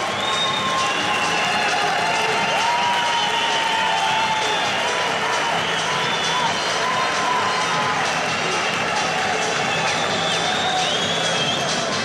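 Arena crowd at the 2010 World Wrestling Championships 120 kg final, a dense continuous roar of cheering and shouting with whistles, steady and loud throughout.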